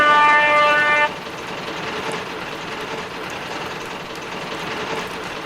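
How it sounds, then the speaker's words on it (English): A steam engine gives a brief, loud, multi-tone whistle that cuts off after about a second, followed by a steady lower rumble and rattle as it runs past. "Henry whistled sadly at James as he rattled past."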